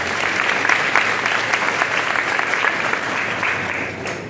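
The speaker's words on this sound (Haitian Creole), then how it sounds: "on va retourner applaudissement" A graduation ceremony audience claps in sustained, dense applause, close and loud throughout, tapering slightly at the very end.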